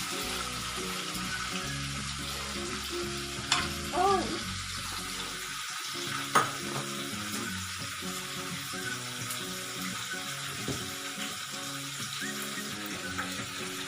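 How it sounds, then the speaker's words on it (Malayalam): Fish pieces fry in oil for fish pickle with curry leaves, a steady crackling sizzle with a few sharp pops and brief stirring clatters throughout. "ഇപ്പം മീൻ വറുക്കാൻ നമ്മൾ ഇട്ടിട്ടുണ്ട്"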